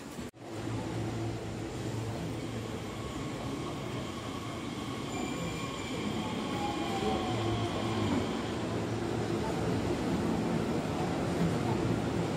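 A local train rumbles steadily into a platform at JR Hakata Station in Fukuoka, low mechanical drone with faint squealing tones overhead, continuous and fairly close.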